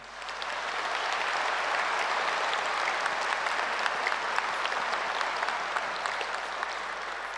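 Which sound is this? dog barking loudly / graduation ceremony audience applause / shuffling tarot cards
graduation ceremony audience applause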